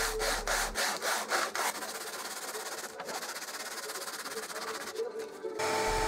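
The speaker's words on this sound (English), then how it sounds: "I did a bit of sanding too." Salvaged oak is sanded by hand, first in a few quick rhythmic back-and-forth strokes, then a steadier continuous scratchy rubbing, close up.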